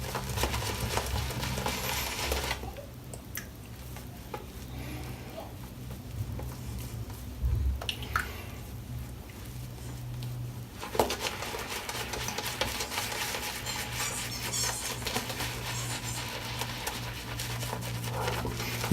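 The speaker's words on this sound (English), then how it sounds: "This is lathering up really nice." Menthol shaving cream being lathered with a brush, a soft continuous wet swishing and rubbing that runs steadily throughout, close and fairly quiet, with no talking.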